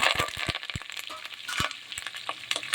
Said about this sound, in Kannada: ಈರುಳ್ಳಿನ ಚೆನ್ನಾಗಿ ಫ್ರೈ ಮಾಡ್ಕೊಳ್ಳಿ ಫ್ರೆಂಡ್ಸ್